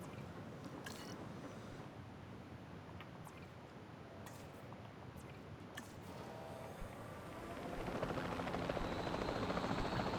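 A helicopter flies in Jurassic World Evolution 2, its steady rotor thump and engine drone running low and even before swelling louder near the end, with no talk over it.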